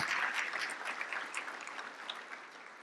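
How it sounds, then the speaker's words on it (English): An audience at an Urban League gathering applauds, a dense, steady wash of many hands clapping that sounds somewhat distant and fades slightly toward the end. "Please give yourselves a round of applause."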